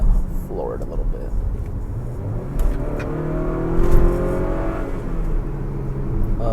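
An Acura RDX 2.0T fitted with a Stage 1 intake accelerates at full throttle, its engine note rising steadily, with a brief spike of intake whoosh, heard from inside the quiet cabin.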